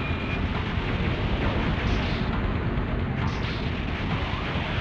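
Bombs and rockets explode continuously in the video game Silent Bomber, a dense, loud, rumbling wall of blasts and crackling debris with no clear gaps.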